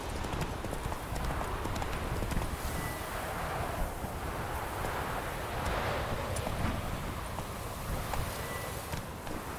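Horse galloping in The Witcher 3 video game, a rapid steady clip-clop of hooves with wind blowing throughout.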